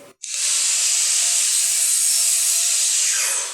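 A power saw cuts scrap wood strips into short 3-inch post pieces in a workshop, one steady, loud, close-up cut lasting a few seconds after a brief silent start, then winding down at the end.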